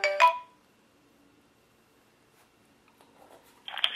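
A smart watch sounds a short ringtone burst for an incoming phone call, bright and close at the start, followed by near silence and another brief tonal burst at the end.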